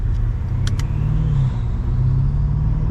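Turbo spool from a 700 hp BMW F90 M5 Competition on the road, a steady loud engine drone with a rising and falling whine, plus two short bright ticks partway through.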